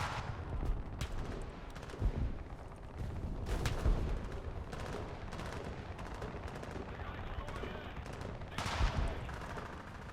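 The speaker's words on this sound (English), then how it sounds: "My guys are shooting at each other." Soldiers shooting in War Thunder, a continuous mix of rifle and machine-gun fire with scattered heavier booms, dense and fairly near across the whole stretch, with faint talk now and then.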